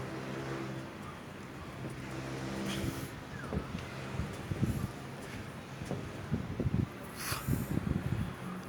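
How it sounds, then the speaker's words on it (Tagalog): Gusty wind buffeting a microphone outdoors while flying a homemade kite, rumbling and swelling louder toward the end, with a few sharp bumps and hisses. "lumakas naman yung hangin"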